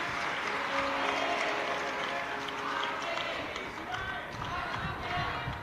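An audience at a Shiv Mahapuran religious discourse applauds the host family, a steady wash of clapping lasting several seconds with voices mixed in.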